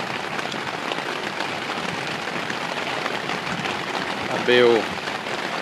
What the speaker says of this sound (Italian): Piove di brutto.